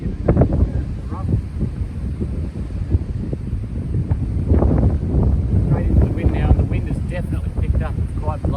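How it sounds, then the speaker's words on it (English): Strong, gusty wind buffets the microphone on an open golf course, a steady low roar with rising bursts that persists throughout, with a voice speaking intermittently underneath. "Wind's picking up."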